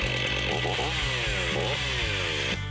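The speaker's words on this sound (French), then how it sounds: "On peut démarrer les tronçonneuses plus petites ou déjà chaudes en les maintenant au moyen de la poignée arrière coincée derrière la cuisse." A small or already warm chainsaw, held by its rear handle clamped behind the thigh, runs loud and close with a buzzing two-stroke engine that revs up and settles in repeated surges, with no talking.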